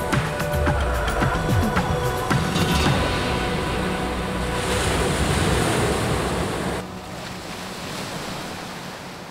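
Ocean waves washing and surging continuously, a loud broad rush of surf with wind buffeting the microphone, easing slightly toward the end.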